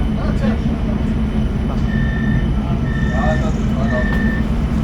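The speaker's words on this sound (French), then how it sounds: "Franchement, ça c'est formidable de voir les trams du Sargon" Alstom trams passing at Hauts du Chazal, a steady loud rumble of rail traffic with faint repeated warning tones above it and no clear voices.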